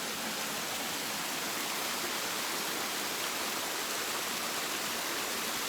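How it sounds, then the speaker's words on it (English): A small waterfall on a brook along the Appalachian Trail in the Wildcats pours continuously, a close, full, unbroken roar of falling water with no voices. "Nice little waterfall."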